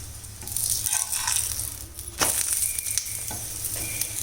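Aloo paratha frying in oil in a pan, giving a continuous close sizzle with crackling bursts and a brief clatter partway through.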